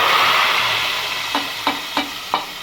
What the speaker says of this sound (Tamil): இப்போ நம்ம கடுகு போட்டுக்கலாம்.